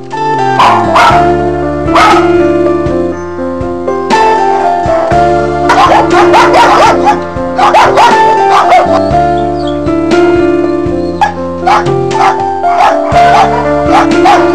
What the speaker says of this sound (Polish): A teraz popatrzmy jeszcze przez chwilę na pieski w bielskim schronisku.